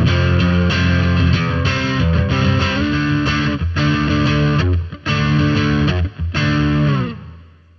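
Distorted electric guitar chords ring out loud and sustained, strummed in a rhythmic up-down pattern with brief breaks, then fading out at the end.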